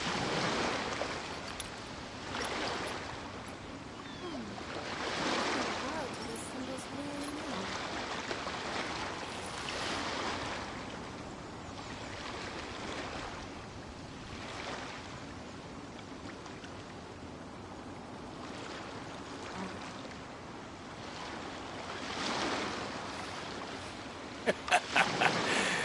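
Ocean waves in Genshin Impact wash in slow, repeating swells of soft surf, each surge rising and fading every few seconds, with faint wind noise underneath.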